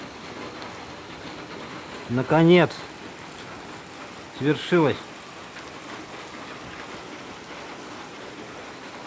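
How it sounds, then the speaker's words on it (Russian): Steady rain pours down as a continuous hiss, with a voice speaking two short phrases over it. "Ура, у нас дождь пошел."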